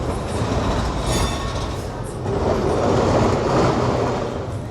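A tram rolls along a street track in the middle of the road in Basel, a steady rumbling roar with rail clatter and a slight rise in loudness midway, city noise around it.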